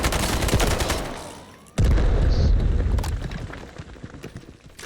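Rifle shots from a PTR in a video game on the Zero Dam map, a sharp loud blast cutting in partway through over a dense layer of earlier gunfire and explosive rumble, with the bursts tapering off toward the end.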